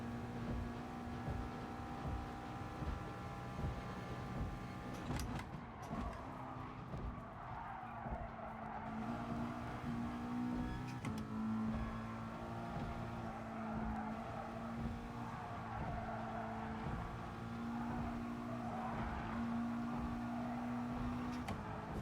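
Race car engine in GT Sport, a steady droning whine that rises through the gears, with tire scrub and skidding noise running continuously underneath.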